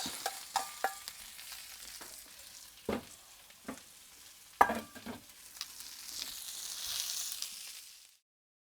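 Peppers sizzling in beef fat on a Kamado Joe Classic II grill crackle and hiss, with sharp spatters and scraping clicks scattered over a soft, continuous fry that swells and then fades out.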